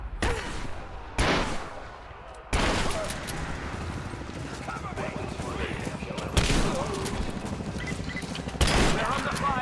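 Rapid bursts of gunfire in the Rise of the Tomb Raider video game crack in sharp volleys over a dense mechanical combat din, with voices speaking amid the shooting.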